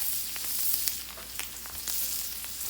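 A ribeye sizzles in butter on a Blackstone griddle after being flipped, a steady close frying hiss with scattered crackles and pops throughout, no voices.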